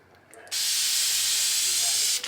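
A spray gun lays clear coat onto a Toyota front bumper in one steady, loud hiss lasting under two seconds, starting abruptly and cutting off cleanly, with quiet room tone before it.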